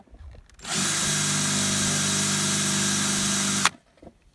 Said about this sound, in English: Drill bits do not work on plastic.